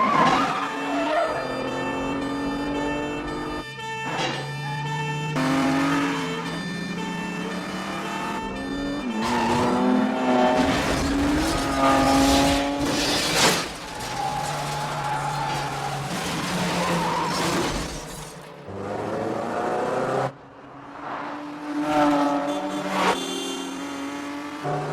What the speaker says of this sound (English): This chase is full of close calls and precision driving.